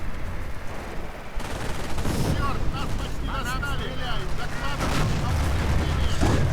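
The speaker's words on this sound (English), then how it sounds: "More Katyusha fire" Katyusha rocket artillery in Company of Heroes keeps up a dense, continuous barrage of rumbling launches and whooshing streaks, loud throughout, with rising whistles and crackling impacts layered over a steady low roar.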